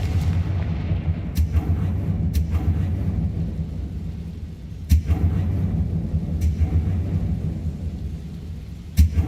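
Confringo fire spell blasts in Hogwarts Legacy, several sharp explosive cracks spaced a few seconds apart over a rumbling, stormy background.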